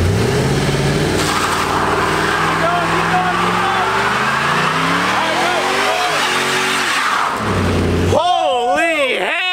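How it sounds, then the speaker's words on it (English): A car does a smoky burnout, its engine revving hard and climbing in pitch while the tires squeal, then dropping back as the wheels lose grip. Loud and close, with voices and whoops over the noise. "That is a freaking burnout"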